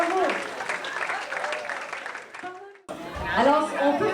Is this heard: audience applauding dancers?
yes